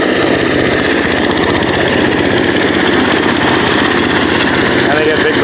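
An engine-driven rice cleaning machine runs at a steady, loud drone while harvested rice crop is processed. The rough mechanical hum and rattle stay constant and close, with no break.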